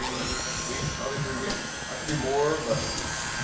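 Electric hair clippers with a 3.5 guard trimming and blending the bulk of a very long beard, a steady close buzz running throughout with slight shifts in pitch as the blade moves.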